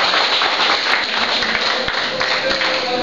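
Dense, steady applause from the audience at the opening of a cultural centre's 2010 arts showcase, continuous clapping filling the whole clip.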